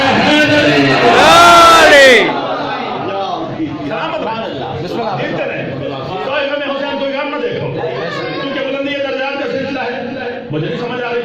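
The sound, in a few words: crowd chanting a slogan at a religious gathering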